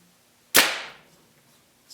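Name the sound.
arrow smacking the target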